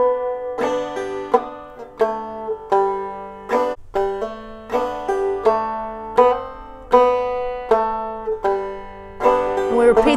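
A banjo plays Go Tell Aunt Rhody, with clear plucked notes and ringing strums and hammer-ons in a steady, unhurried rhythm, close and alone with no talk over it.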